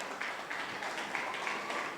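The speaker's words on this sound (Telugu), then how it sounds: "క్లాప్స్ కొట్టండి అందరూ" Wedding guests clapping at Ranjith and Serisha's ceremony: faint, scattered yet continuous hand claps, fairly distant, with no voices over them.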